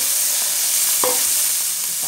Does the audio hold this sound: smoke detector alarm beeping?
no